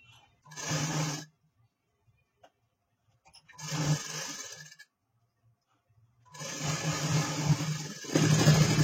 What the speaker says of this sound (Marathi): आपल्या गळ्याला शिलाई करून झालेला आहे.